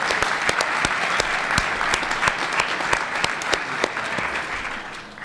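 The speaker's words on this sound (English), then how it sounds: "Let's give them a round of applause first for the amount of hard work they did." An audience at a senior athletic signing event gives a round of applause, steady clapping with a few sharp, close individual claps standing out, fading slightly toward the end over about five seconds.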